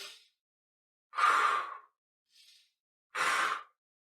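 A singing teacher demonstrates diaphragm breathing: two strong breathy inhalations, close and clear, with a fainter breath between and another fading at the start, set in near silence.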